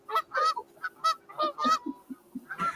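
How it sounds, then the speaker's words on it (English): A recorded geese honking sound effect plays as a rapid, close series of loud, nasal honks in uneven bursts with brief gaps, heard alone. "They're actually geese, but it's all I could find in a pinch."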